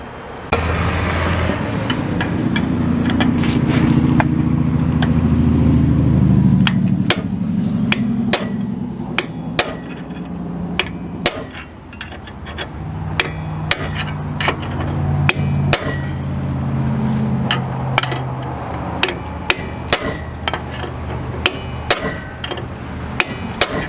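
A hammer strikes a chisel driven against a failed vehicle wheel bearing beside the road, sharp metallic blows landing in irregular bursts over a low rumbling background.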